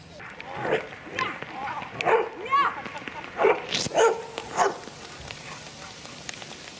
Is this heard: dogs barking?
yes